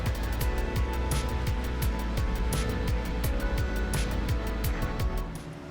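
A Chevrolet Silverado race truck in iRacing laps Gateway Motorsports Park, its loud, close engine note climbing and dropping in quick repeated sweeps before easing off slightly at the end.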